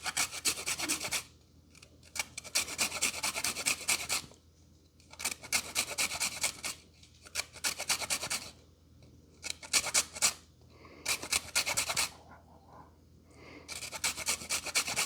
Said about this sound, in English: We're gonna go ahead and grate those up so we get the zest of 1 key lime.